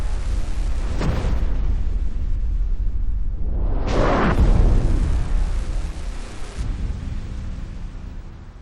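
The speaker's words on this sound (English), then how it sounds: "an aircraft engine is used to blast the facade with its tremendous power" An aircraft engine blasts a building's curtain-wall facade in a tornado simulation test: a loud, roaring rush of wind surges, dips, then swells to a thunderous peak before easing off.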